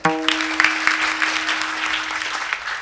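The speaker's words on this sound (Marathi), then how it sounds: "टाळ्या वाजवा एकदा." An audience at a kirtan applauds, a loud, steady burst of clapping from a crowd that starts abruptly after a sustained tone fades and keeps going without talk over it.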